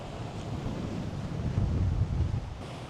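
Strong wind at Cockle Creek, Tasmania buffets the microphone with a low, steady roar that swells in the middle and eases near the end, with no voices.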